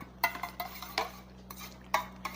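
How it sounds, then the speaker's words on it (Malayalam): A spoon stirs glycerin into a small batch of homemade vitamin C serum, giving quiet, irregular clinks and scrapes against the container over a low steady hum, with no voices. "അങ്ങനെ നമുക്ക് ഇതെല്ലാം കൂടി നന്നായിട്ടൊന്ന് മിക്സ് ചെയ്യാം"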